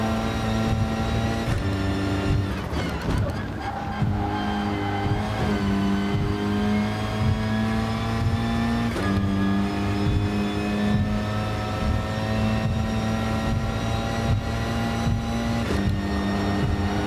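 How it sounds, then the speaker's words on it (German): A race car engine in Gran Turismo Sport, revving loud and close, climbing in pitch through several quick upshifts before settling into a sustained high-rev drone, no voices. "jetzt wird mal Gas gegeben"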